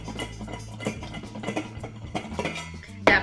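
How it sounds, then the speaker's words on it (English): Purple pole beans tossed with flake Mediterranean sea salt and butter in a lidded pot, shaken hard so they rattle and clatter against the metal in a quick series of knocks, ending in a louder burst of clanking. "And then my favorite thing to do, put the lid on, shake it up."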